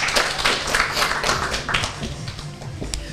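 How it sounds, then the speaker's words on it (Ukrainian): Applause for award recipients at a ceremony honouring social-sector workers, a dense crowd of hand claps sustained throughout at steady loudness. "Ще раз оплески нагороджених."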